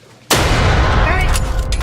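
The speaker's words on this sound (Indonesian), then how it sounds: "Setelah tembakan peringatan" A warning gunshot fired near an elephant rings out as one sudden loud broadband blast, followed by sustained rumbling noise and faint voices.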